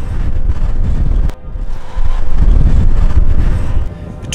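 Strong wind gusts roar around an old weathered cabin in the Utah backcountry, loud and buffeting against the microphone, briefly easing before surging again.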